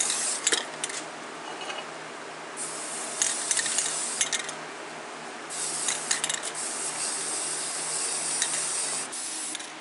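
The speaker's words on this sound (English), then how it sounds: "Spraying them with primer." Spray gun applying primer to crane parts for a Wood-Mizer sawmill in a rainy-day workshop, a steady hiss running through the clip, swelling and breaking off in repeated bursts without talk.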